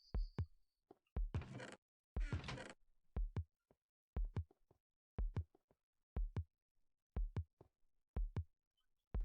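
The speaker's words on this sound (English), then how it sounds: "Nice little heartbeat keeping me going." A heartbeat in the video game Lost Souls thumps in steady paired beats, soft and regular against near silence, with a brief louder rushing burst near the start.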